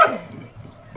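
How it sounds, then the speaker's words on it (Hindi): Shanti aunt's dog barks at a visitor in a hill village, two loud close barks bracketing a brief quiet stretch. "ये मुझे देख के भौंक रहा है।"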